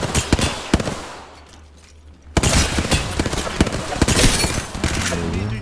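Rapid automatic gunfire rattles in a video game firefight, loud close bursts broken by a short lull, then dense overlapping shots resuming.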